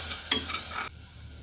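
Brief stirring and light sizzling as garlic sautés in a hot pan, a few scraping strokes over a steady fry, ending abruptly.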